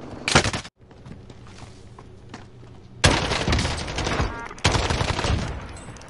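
Video game gunfire erupts in loud, close bursts: a short volley at the start, a quieter stretch, then two sustained rapid-fire barrages.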